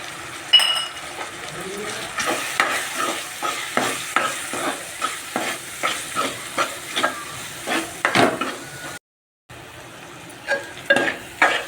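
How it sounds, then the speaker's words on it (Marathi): Agri Koli masala, turmeric and garam masala fry in oil while a spoon stirs in steady rhythmic strokes with occasional clinks against the pan, close and fairly loud, alone apart from a brief gap near the end. "मसाले मस्त फ्राय झालेत."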